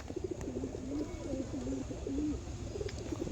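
Pigeons coo in a low, repeated warbling rhythm, moderately near, over a steady background hiss.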